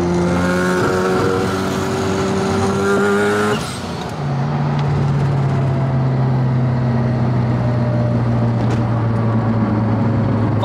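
A Mazda RX-7 FD sports car on the move, its rotary engine droning loudly and close, pitch climbing through the revs, dropping briefly at a gear change, then pulling steadily again.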